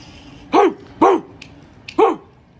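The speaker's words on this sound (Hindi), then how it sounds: "भौंकने लगा वो।" A dog barks three times, sharp and close, with brief pauses between barks.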